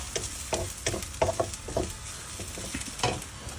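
Chickpeas sautéed with spices in a pan for street-cart style karam sundal, with intermittent stirring scrapes and clatters over a soft, steady sizzle, close up and with no talking.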